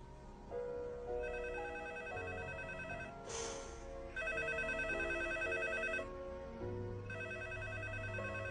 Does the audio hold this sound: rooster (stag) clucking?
no